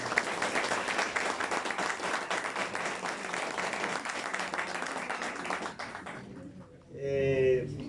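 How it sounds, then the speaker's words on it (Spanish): An audience at a novel launch event at a memory and reconciliation centre applauds in a full, steady wave for about six seconds, then it fades and a voice begins speaking. "Yo quisiera arrancar pidiendo un aplauso para Yesid Contreras Beltrán"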